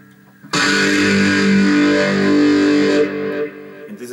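One sustained, distorted electric cello tone through a humbucker pickup sounds loud and gritty for a few seconds before dropping away, played alone with no talking.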